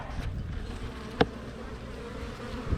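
Honey bees flying around a hive, a faint steady buzzing under outdoor background noise with one brief sharp knock near the middle.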